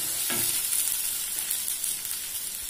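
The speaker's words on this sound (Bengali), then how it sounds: "টমেটো কুচি দিয়ে এটাকে আমি এর সাথে মিক্স করে আর একটু ফ্রাই করে নেব।" Chopped tomato frying in a pan with other vegetables, a steady bright sizzle up close with one brief stirring scrape near the start.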